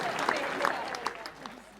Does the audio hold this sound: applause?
yes